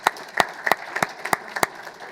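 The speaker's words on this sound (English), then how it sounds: "Round of applause for them." Sparse applause from a small group, a handful of distinct sharp claps scattered unevenly over a couple of seconds.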